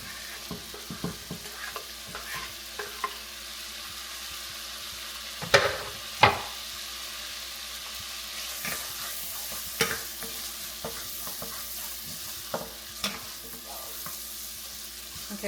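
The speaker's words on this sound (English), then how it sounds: "I'm going to cover this for about 2 minutes, let it saute" Onions sauté in a pan for spinach dip with a steady soft sizzle, punctuated by occasional scraping stirs and a couple of sharper clinks of a utensil against the pan, with no talk.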